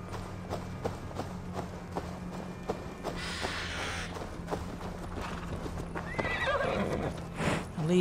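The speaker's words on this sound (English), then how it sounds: "Get on the damn horse!" A horse whinnies loudly over a steady clip-clop of hooves in Assassin's Creed Valhalla, with ambient background noise throughout.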